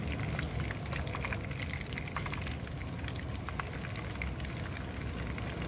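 Batter-coated shrimp fry in hot oil, a steady dense hiss and crackle of bubbling with scattered sharper pops throughout, close and continuous.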